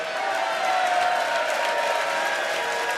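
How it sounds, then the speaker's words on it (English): Rowdy crowd at the Lakeside BDO World Darts Championship on a Saturday evening, a steady dense roar of voices, chatter and scattered whoops filling the hall without pause. "Some members of the crowd here getting a little rowdy towards the end of their Saturday evening here"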